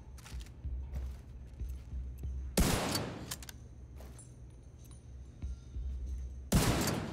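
Gunfire in The Division 2, two loud bursts of shots standing out over a low steady game backdrop with a few quieter clicks and pops between them.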